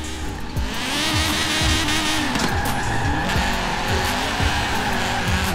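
Honda Civic Type R drifting at high revs in Forza Horizon 4, a loud continuous engine roar with sustained tire squeal and repeated skid bursts throughout, no talk.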